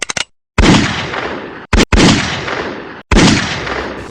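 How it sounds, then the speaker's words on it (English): Gunshot sound effects recorded with real guns for a hip-hop song: three loud, sharp blasts, each followed by a booming decay, separated by brief silences, with no voices. "the gun sound effects were made with real"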